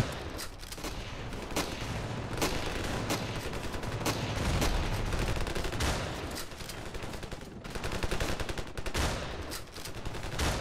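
Shotgun blasts of buckshot in the video game Ravenfield, a dense run of sharp, loud reports with heavy gunfire all around, packed close together with almost no pause across the whole stretch.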